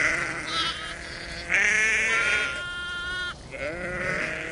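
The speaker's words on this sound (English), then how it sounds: "for sheep were running all over the place" Primitive prehistoric-type sheep bleating on open pasture, several overlapping wavering calls at close to mid distance, loud and continuous across the clip.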